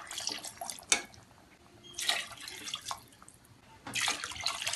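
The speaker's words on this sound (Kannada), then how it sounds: "ನೆಕ್ಸ್ಟ್ ಎಷ್ಟು ಬೇಕೋ ಅಷ್ಟು ನೀರು ಹಾಕ್ಕೊಳ್ಳೋಣ" Water poured into a cooking pot for chicken biryani rice, coming in three separate splashing bursts with quieter gaps between them, close and fairly loud.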